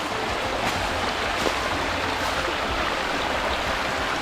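Fresh spring water pours steadily down a mountainside, a loud, close, continuous rushing wash with no voices over it.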